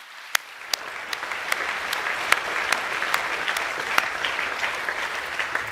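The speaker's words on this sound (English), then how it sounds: "Can we give them another round of applause, please?" Audience applause for award-winning Year 10–12 students at a school academic awards assembly: steady, full-room clapping with a few sharp individual claps standing out, heard alone without talk.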